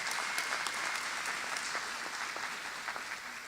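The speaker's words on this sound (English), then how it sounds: "Let's give them a round of applause." A large audience at a vocational institute's commencement ceremony applauds the graduates, a sustained dense wash of clapping at an even level throughout, with scattered sharper individual claps.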